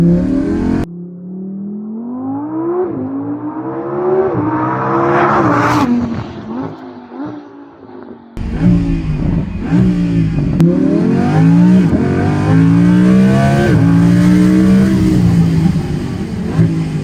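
A Lamborghini Huracan Avio's engine revs hard and loud, with rising and falling pitch sweeps as it climbs through the gears, briefly dropping off before surging again, close and alone without talk.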